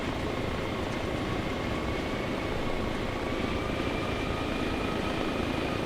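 Steady, droning helicopter engine and rotor noise from a small Little Bird chopper in a video game, constant in level and close throughout with no voices.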